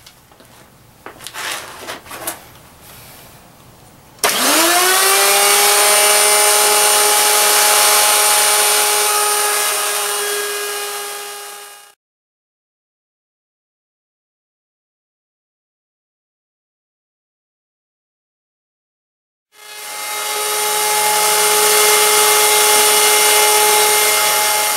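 A power tool spins up with a rising whine and cuts steadily into a wood edge for a chamfer, stops to silence, then starts up again, loud and close with no talking.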